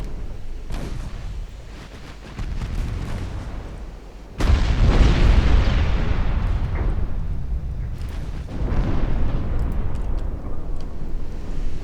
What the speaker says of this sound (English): Orange guns are firing.